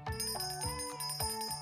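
A small toy bell rings in quick repeated jingles, bright metallic tones struck about three times in under two seconds.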